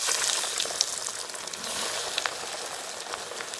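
Egg cutlets frying in hot oil give a steady, bright sizzle and crackle with occasional sharp pops, close and continuous with no talking.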